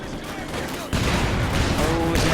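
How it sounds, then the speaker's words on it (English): Rapid barrage of mortar and gunfire explosions in a competitive multiplayer war video game, a dense continuous roar of blasts that swells louder partway through. "Incoming mortars!"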